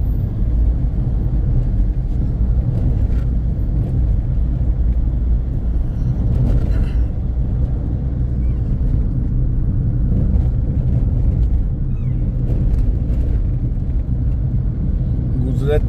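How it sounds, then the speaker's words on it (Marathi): A night-time traffic jam on the Mumbai–Ahmedabad highway near Ghodbunder, heard as a steady heavy rumble of idling and crawling cars and trucks, close and loud without pause. "मोठ्या प्रमाणात ट्रॅफिक जाम।"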